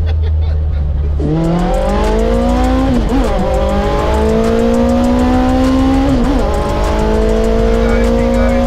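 A tiny van fitted with a big motorbike engine pulls hard from 20 to 70 mph, its loud engine note climbing steadily through the gears with brief dips at each shift, dominating throughout.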